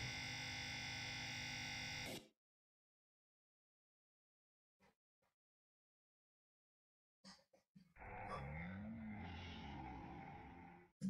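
A burst of harsh, distorted synthetic noise cuts off into silence, then scattered glitchy clicks lead into a warbling, garbled electronic drone like an eerie digital voice, a demon language sound effect in the game Silver.exe.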